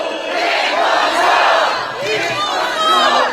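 A large crowd at a presidential campaign rally in Bucheon roars and chants in unison, the massed voices swelling loudly, dipping briefly, then surging again.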